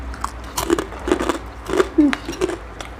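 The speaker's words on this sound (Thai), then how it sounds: "แล้วแค่หมูลงไปแล้วกินกับน้ำซุปแบบ อร่อยมากเลย" Close-up chewing and soft crunchy bites of pork with Vietnamese-style rolled rice noodle soup, a few separate mouthfuls with faint background sound and no clear speech.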